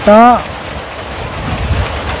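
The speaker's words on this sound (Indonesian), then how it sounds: "cuacanya lagi hujan pemirsa ditambah nih, cuacanya lagi hujan" Rain keeps up a steady hiss throughout a fishing trip. A brief voiced sound at the start rises above the rain, and the hiss then continues evenly at moderate loudness.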